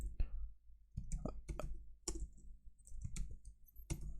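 Keys typed on a computer keyboard while writing HTML comment code, a quick run of close, uneven clicks and taps in short bursts, heard on its own without talk.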